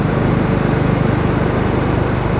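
A Royal Enfield motorcycle engine drones steadily and loudly while riding along Sabino Canyon Road on the far east side of Tucson, a continuous rough thrum with wind noise and no pauses.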